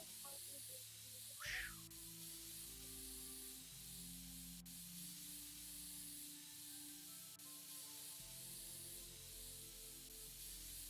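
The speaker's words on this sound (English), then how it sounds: "Dusting out the computer." Compressed air dusting out a computer: one brief sharp hissing spray burst, then only a low steady electrical hum in a quiet room.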